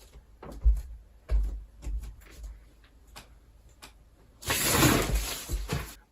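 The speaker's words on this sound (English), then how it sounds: "we're also going to ignore the fact that my entire wardrobe rail just fell down" A wardrobe clothes rail falling down indoors, with a string of hollow knocks and clatters and then a loud rustling crash of hangers and clothes near the end.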